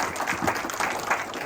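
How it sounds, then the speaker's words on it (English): Audience applause for a speaker at a community talk, a steady wash of many hands clapping at moderate volume for about a second and a half, with no talk over it. "Everybody give her a round of applause."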